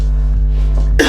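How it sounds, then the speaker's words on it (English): A single person gives one brief, loud, close cough, a short burst at the end of a low voiced hum. "I don't know why I'm coughing so much."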